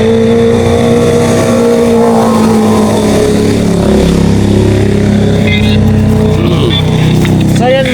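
Cars and motorbikes pass on the Marilaque highway at night, their engines rising and falling as they go by, with revving and shifting pitch, loud and continuous under people talking nearby.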